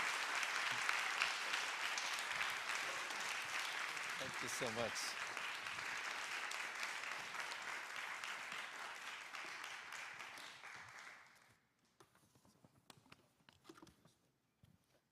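Loud, sustained applause from a large church congregation at a young adults' Sunday worship service fills the space for about eleven seconds, then fades, and someone speaks briefly afterward.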